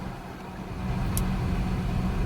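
A car driving in traffic makes a steady low engine and road rumble from inside the cabin, growing slightly louder midway, with no talking.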